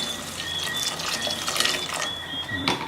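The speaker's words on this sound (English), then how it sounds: "it's running out of water, so I had to fill this up" Warm tap water running into a container in a home kitchen, a steady splashing stream with a faint tonal whine and a louder clatter near the end.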